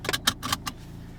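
Car key fob being inserted with keys jangling, a handful of quick close metallic clinks and rattles in a short burst, then quiet.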